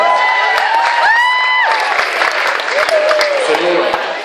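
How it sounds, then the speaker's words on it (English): Audience applause and cheering at a UK stand-up choreographers' showcase, steady clapping with whoops and shouted voices from the crowd, loud and continuous throughout. "Round of applause for everyone."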